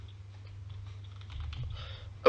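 Soft keyboard typing from a player at the computer in Euro Truck Simulator 2, a few quiet clicks over a low hum, with a sharper tap at the very end.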